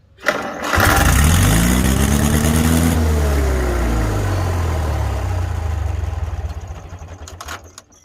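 A 1943 Farmall H tractor engine cranks and catches, then runs loud and close with a rough, pulsing idle whose pitch rises and falls before it winds down near the end.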